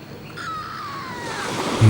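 Grey-hooded gull giving a single drawn-out, slightly descending cry over steady surf-like background noise and wind, ending in a louder rumble.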